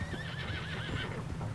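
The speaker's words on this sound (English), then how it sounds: "Oh, we need to slow down the horse on the bridge." A horse in Red Dead Redemption 2 lets out a long, wavering neigh over a quick patter of hooves on a bridge, loud and close, with no talking.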